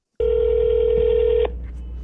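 A single long electronic phone ring on a call to an AI restaurant host at a demo bistro, one steady tone lasting over a second, loud and close, then cutting to quiet line hiss.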